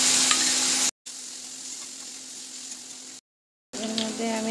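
Onion paste with chili, cumin and a little salt poured into a hot pan, giving a steady hiss and sizzle interrupted by two brief breaks, then a voice speaking over the frying.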